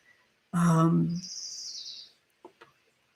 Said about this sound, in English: the embodiment, that loud bird